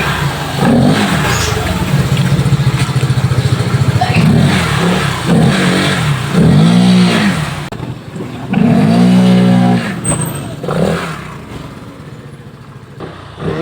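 A Honda ADV scooter fitted with a Euro Griffin 180 kit and a tuned CVT, revving on a road test, loud engine note climbing and dropping through several throttle surges, close and continuous.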